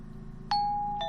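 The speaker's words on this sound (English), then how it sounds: "the doorbell keeps ringing." A ding-dong doorbell chime in a visual novel game sounds once clearly, then starts again softer as it repeats, over a faint low hum.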